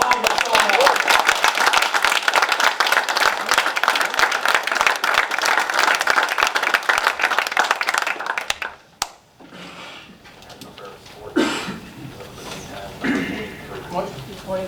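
Applause from the audience at a school board meeting, dense clapping for about eight seconds before it cuts off abruptly, followed by quieter room sound, scattered shuffling and voices.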